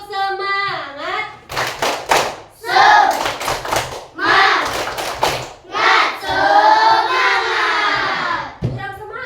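A school class plays the rhythmic 'tepuk semangat' clapping game, with bursts of group hand claps mixed with children's and a teacher's chanting voices in a classroom.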